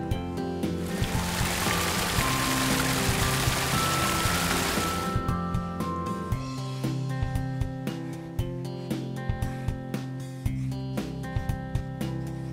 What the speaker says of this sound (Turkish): Şimdi kuma suyumuzu ekleyebiliriz.